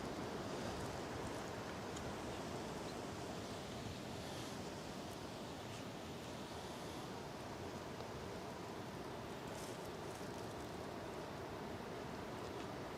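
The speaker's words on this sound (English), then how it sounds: "Sounds like a massive gust of wind is coming." Strong wind gusting outdoors, a steady broadband roar of rushing air that holds loud and unbroken throughout, with no voices.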